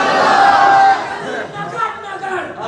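Crowd chanting religious slogans during a sermon gathering, a loud burst of many voices that fades after about a second into a softer murmur of the crowd.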